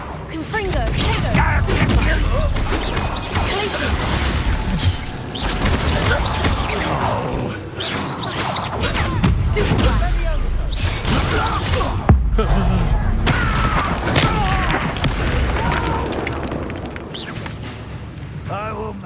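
Fire spell blasts from combat in the Hogwarts Legacy video game boom repeatedly through a dense, loud mix of battle effects and music, with a voice talking over the action.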